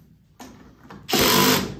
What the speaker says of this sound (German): Dafür hier Akkuschrauber, aber nur wenn Drehmoment drin ist.